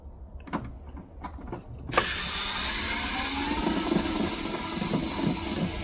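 A power screwdriver backs a screw out of a plastic pet brooder cover. A few short clicks and taps come first, then a steady, close whirring motor runs on without a break.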